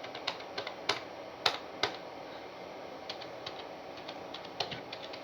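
Typing on a computer keyboard while entering a purchase transaction in accounting software, with irregular bursts of light key clicks, a few sharper taps standing out, heard alone against a quiet room.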